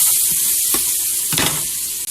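Butter sizzling steadily in a pan as onion sautés, a continuous bright hiss with a couple of brief scraping stirs partway through, close and fairly loud.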